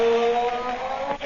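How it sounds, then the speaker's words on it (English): The Blue Beetle's magic ray gives off a steady, unwavering electronic hum of a few sustained tones, moderately loud and alone for just over a second. "That was the sound of the Blue Beetle's magic ray."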